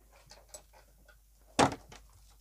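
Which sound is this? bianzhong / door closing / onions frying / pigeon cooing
door closing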